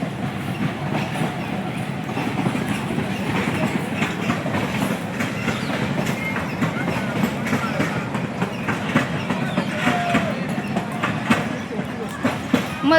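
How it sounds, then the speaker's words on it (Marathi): The Vanrani toy train runs through Sanjay Gandhi National Park with a continuous rolling rumble and rhythmic clickety-clack of wheels on rail, moderately distant and fairly quiet throughout. "ही बघू शकता तुम्ही वनराणी ट्रेन चालू आहे"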